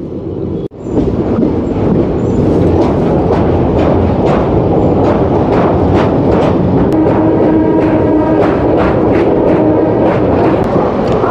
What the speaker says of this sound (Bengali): ট্রেন আবার চলতে শুরু করলো।